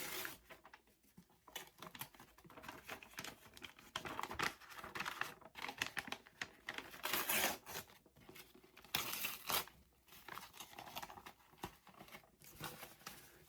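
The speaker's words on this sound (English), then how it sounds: "And now it's time to take our wrapping paper off." Wrapping paper is peeled and torn off a book with spray-painted page edges, giving a series of close, crinkly ripping and crackling bursts with brief pauses, fairly quiet throughout.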